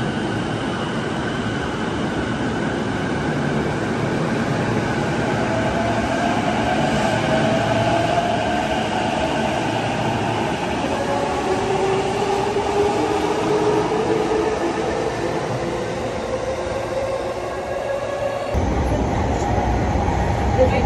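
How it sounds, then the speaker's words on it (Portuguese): A Japanese subway train rumbles steadily at close range, its motor whine rising and falling in pitch as it runs, with a brief shift near the end. "O metrô do Japão."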